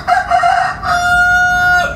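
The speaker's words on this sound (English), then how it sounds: "The rooster is agreeing." A rooster crows nearby, one loud, drawn-out cock-a-doodle-doo sounding alone with nothing else over it.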